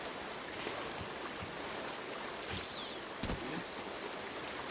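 Steady rushing water of a waterfall in the Uncharted video game, a constant broadband roar with a faint chime and a couple of soft thuds layered on top.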